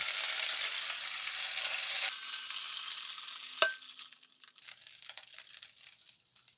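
Loud, close frying sizzle of shrimp stir-frying in a wok that fades over several seconds, with a single sharp clink of utensil on the wok partway through.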